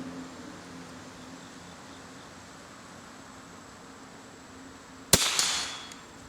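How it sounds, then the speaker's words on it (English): A Remington 510 Targetmaster rifle fires a single sharp shot at a 50-yard target outdoors, a sudden near crack after several seconds of quiet background hiss, trailing off in a short echo. "Take a shot here at 50 yards and see how well the gun is sighted before I let him shoot it."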